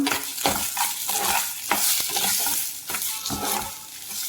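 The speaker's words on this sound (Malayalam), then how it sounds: "ഇനി ഇത് നമുക്ക് ഇളക്കി കൊടുക്കാം" Crushed coconut, chillies and shallots are stirred in a frying pan: repeated close scraping strokes in a steady rhythm over a bright, constant hiss of frying.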